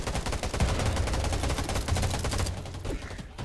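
Rapid rifle gunfire in the video game Undawn, a loud sustained burst of repeated shots that stops abruptly near the end, with no talking.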